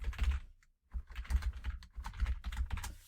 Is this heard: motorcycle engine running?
no